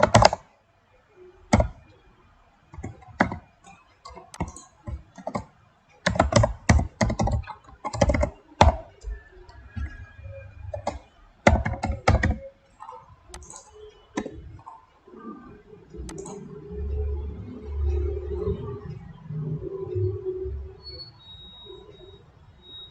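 Keys clacking on a computer keyboard while a username and password are typed at a WordPress login, quick bursts of close, crisp strokes separated by pauses, then a quieter stretch with background rumble.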